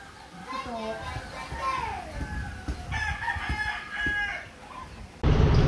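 Fighting roosters crow several times, mid-distance, while children play and chatter nearby and a loud burst cuts in at the end.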